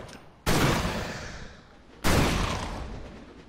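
Two loud, sharp gunshot blasts in the video game Victor Vran, each a sudden broadband crack with a long decaying tail, spaced about a second and a half apart, with no talking.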